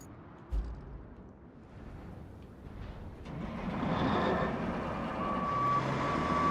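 A truck rumbles on a desert base in RoadCraft, its engine swelling louder, while a steady high reversing beep pulses near the end.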